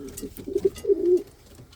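Indian fantail pigeons with young chicks give soft, low cooing calls, several close rolling coos running together over a second or so.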